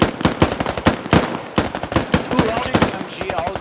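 Heavy machine gun firing in a squad-based war video game, rapid sharp bursts of shots, close and loud, with rhythmic repeated reports and some voice chatter mixed in.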